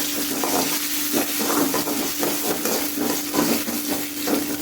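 Chopped ginger and green chillies sizzle in a pan for fish curry while a spoon stirs in regular strokes, the frying hiss continuous and close with rhythmic scraping over a faint hum.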